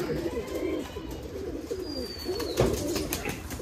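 Racing pigeons at a pigeon farm coo in low, rolling phrases close by, with a steady background of other birds and faint ambient noise.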